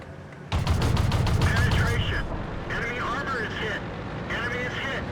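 Tank gun fire in World of Tanks on the Malinovka map: a rapid burst of sharp cracking shots up front, followed by rumbling battle noise and engine drone, while someone talks over it.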